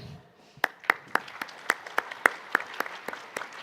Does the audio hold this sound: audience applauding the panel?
yes